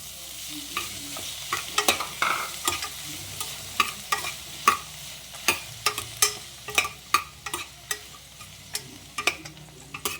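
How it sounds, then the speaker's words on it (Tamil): Onions and tomatoes sauté in a pan for a village-style pannagani greens kootu, with a soft sizzle under repeated sharp spoon scrapes and taps that come in an irregular, steady rhythm. No one speaks. "ரெண்டும் சேர்ந்து வதங்கி வந்த உடனே கட் பண்ணி வச்ச தக்காளி சேர்த்துக்கலாம்."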